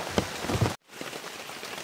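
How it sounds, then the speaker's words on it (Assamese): Light rain patters steadily on leaves and ground in a forest at night, a soft, even hiss close by, broken by a brief drop in sound before resuming. "অলপ অলপ বৰষুণ এতিয়ালৈকে এৰাই নাই দিয়ে আছে একদম পূৰা 8টা বজাৰ পৰা বৰষুণ দিয়ে আছে"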